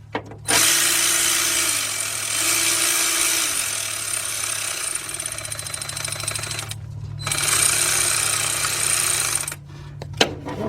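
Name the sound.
cordless ratchet driving 10mm bolts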